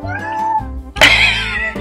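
Cats on a sailboat meow loudly and close by, one plaintive wavering meow followed by a sharper, brighter yowl, with no talk over them.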